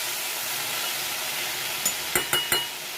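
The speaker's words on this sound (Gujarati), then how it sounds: "હવે આપણે એકવાર સરસ હલાવી નાખીશું" A spoon stirs ridge gourd peel chutney in a pan over a steady soft sizzle, ending in a few quick clinks against the metal.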